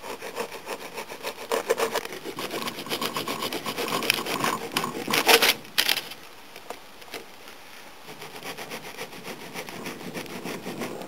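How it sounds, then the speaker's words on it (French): A knife saws through a firm, set slab of sweet cereal bar mixture with crunchy, scraping strokes in an uneven rhythm, close up, followed by quieter rasping cuts. "Maintenant il ne reste plus qu'à débiter les barres."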